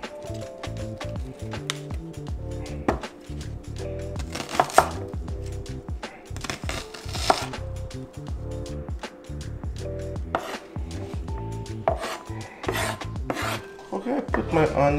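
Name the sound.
chopping onion into small pieces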